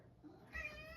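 A pet cat gives a single short, faint meow near the end, close by in a quiet room.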